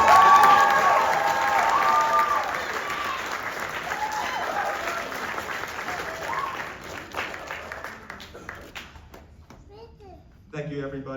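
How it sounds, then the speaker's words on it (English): Audience applause fills a school winter concert hall, loud and sustained, then thinning out with children's voices chattering through the crowd noise as it fades. "get one more round of applause for the Washington"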